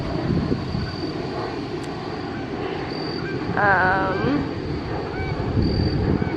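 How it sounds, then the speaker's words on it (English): A big, loud aircraft passes overhead as a steady, broad engine roar that fills the clip, with someone talking over it. "Is that a big loud plane, Kitty?"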